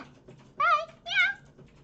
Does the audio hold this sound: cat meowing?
yes